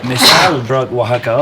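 A single sharp sneeze bursts out at close range, followed immediately by a person talking in a conversational setting.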